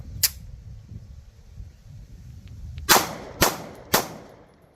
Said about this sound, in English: I'll just shoot 3 as fast as I can while trying to keep it on center mass there